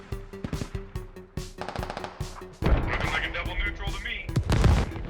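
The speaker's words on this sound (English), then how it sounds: "Rockets unloading into the Warrior." Video game rockets slam into a British Warrior armored vehicle in the streets of Fallujah: a run of sharp thudding shots, then a louder sustained rumble of blasts and fire, with a commentator talking over it.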